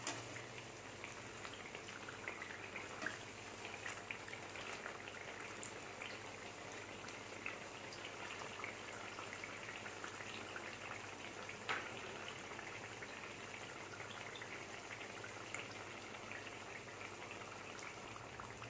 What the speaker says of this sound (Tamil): எண்ணெய் சூடானதுக்கப்புறம் மீடியமில் வச்சுக்கணும் அப்போ தான் நல்லா உள்ளார வேகும்